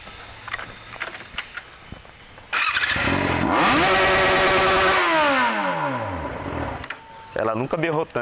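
XJ motorcycle engine revved hard after a quiet idle, a loud sustained roar climbing and then falling away, followed by brief clattering and a few short revs, with people talking nearby.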